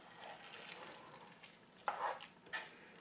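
Rice being stirred in a pot on the stove, faint soft scraping and shuffling with a couple of sharper spoon knocks against the pot near the end, quiet and close, with no talk.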